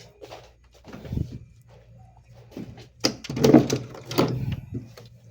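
A refrigerator door is pulled open, followed by rustling and movement, then it thuds shut; faint background noise between.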